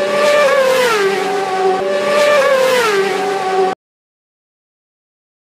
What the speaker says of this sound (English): three Suzuki Hayabusa motorbikes came screaming past